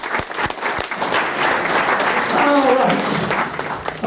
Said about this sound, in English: A big round of applause, if you would, please, for Pam.